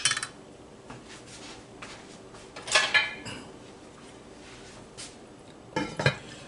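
A metal lid goes onto a pot of curried chicken with potatoes. Several close clanks and clinks stand out against a quiet kitchen background, and the louder strikes come near the start, middle and end.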